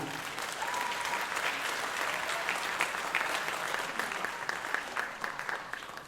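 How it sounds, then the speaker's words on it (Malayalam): An audience applauds steadily at an Onam 2024 celebration, welcoming the founder members, dense continuous clapping from a sizable crowd lasting throughout, with no talk over it. "നല്ലൊരു കയ്യടിയോടുകൂടി നമുക്ക് അവരെയും ഇതിലേക്ക് സ്വാഗതം ചെയ്തുകൊള്ളാം"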